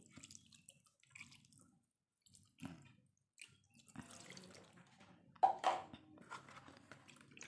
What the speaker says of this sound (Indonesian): Terus ini mau aku siram lagi seperti biasa ya, disiram 1 hari 1 kali.